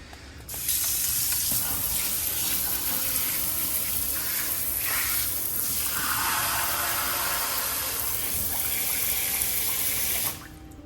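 A black matte kitchen sink faucet runs steadily for about ten seconds, a full, even hiss of water spraying into the basin that starts and stops abruptly, with no talking.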